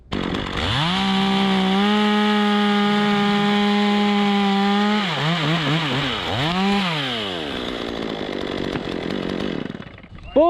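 Chainsaw cutting a piece of oak on a 95 ft tree to let it free fall, a loud close engine held at high revs, then dipping and surging twice before bogging and fading out, alone without talk.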